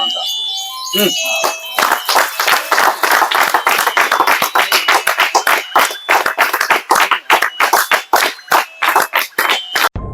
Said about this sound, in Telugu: అలా రెండు నిమిషాలు చప్పట్లు కొట్టాక